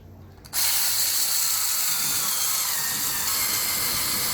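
Power tool tightening the bolts on an electric skateboard's wheel plate for all-terrain wheels, a quiet pause, then a sudden continuous buzzing ratchet-like whir that runs steadily and close until the end.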